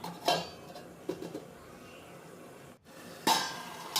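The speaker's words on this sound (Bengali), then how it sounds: "এবার এটাকে আমি দু মিনিটের জন্য ঢাকা দিয়ে দিচ্ছি গ্যাসটা মিডিয়াম রেখে" A lid set on a kadai of cauliflower and potato curry over medium flame, a couple of clear metallic clinks and a knock, close by over a faint background hiss, with no talk.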